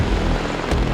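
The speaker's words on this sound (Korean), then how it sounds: "이 해병대를 상징하는 헬기인 오스프리입니다" A Marine Corps Osprey tiltrotor aircraft with two propellers roaring loud and close, a dense steady rotor and engine rumble filling the whole moment without voices.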